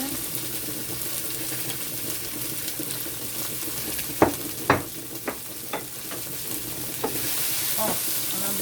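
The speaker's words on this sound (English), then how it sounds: "I'm going to put the onions and the garlic. Let those saute a little bit" Onions and garlic sautéing in a pan for Jamaican steamed fish, a steady frying sizzle with several sharp utensil scrapes and clicks against the pan in the middle of the stretch.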